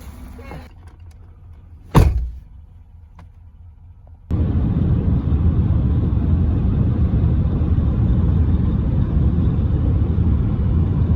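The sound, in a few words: car driving, interior rumble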